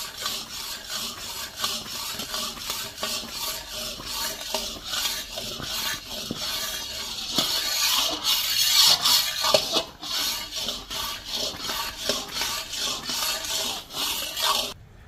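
Thick gram flour batter stirred with saffron food colour in a large pan, a continuous close scraping and rubbing from the spoon in a steady rhythmic back-and-forth, with no voices.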